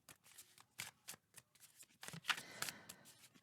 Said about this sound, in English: I've already shuffled these like a bazillion times